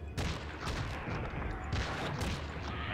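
A machine gun fires in the game Nosferatu: The Wrath of Malachi, a dense rattling burst of rapid shots sustained at full loudness for several seconds.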